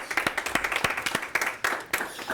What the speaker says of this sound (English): Everybody give Nancy a round of applause.